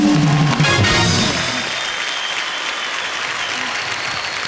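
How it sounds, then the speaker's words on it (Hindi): A studio audience at The Kapil Sharma Show claps loudly for about a second and a half, then the applause thins out into scattered, fading clapping. "एक बार तालियां बजती रहें"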